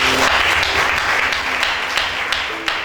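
A church congregation applauds loudly and steadily for a few seconds, a dense wash of clapping that stays strong throughout before easing slightly at the end.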